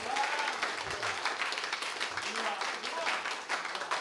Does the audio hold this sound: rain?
no